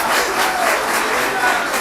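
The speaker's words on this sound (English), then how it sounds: "Can we just give a round of applause for everyone?" Audience applauding at a city leadership academy graduation ceremony, a dense and loud burst of many hands clapping in a crowded hall, sustained for the whole moment.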